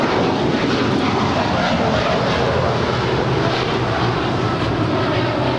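A heavy jet airliner rolls for takeoff on runway 25 right at Los Angeles International Airport, a loud, steady engine roar that holds unbroken from start to finish with no talk over it.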